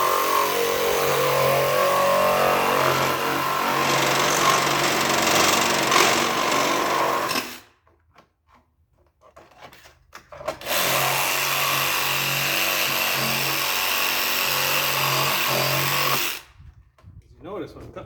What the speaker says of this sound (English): when I'm cutting this plastic off here